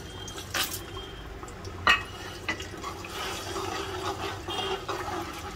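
Onion paste frying with whole garam masala in a large cooking pot for mutton paya, a steady low sizzle with scattered metallic clinks of a spoon against the pot.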